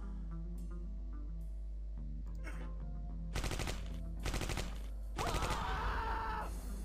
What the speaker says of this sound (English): The MP40 Bucker, the leader himself, opening fire right there.